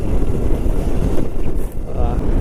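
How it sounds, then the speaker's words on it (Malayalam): Strong coastal wind by the sea on a sandy road near Kanyakumari buffets the microphone with loud, low, gusting rumbles that dip briefly and then return at full force. "നല്ല കാറ്റുണ്ട്."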